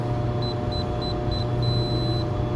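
A digital torque screwdriver signals it has reached set torque with a series of short electronic beeps, about four quick pips followed by one longer tone, over a steady background hum.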